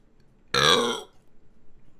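A single loud, drawn-out burp lasting about half a second, close and clear against a quiet background.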